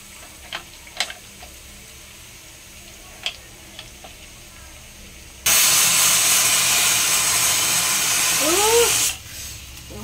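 A pressure cooker whistles as it vents steam. After scattered faint clicks and ticks, a loud, sustained hissing shriek rises and runs for about four seconds, then cuts off.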